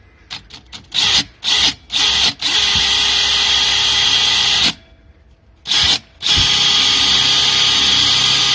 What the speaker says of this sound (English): Okay, so we're all set up and ready to drill,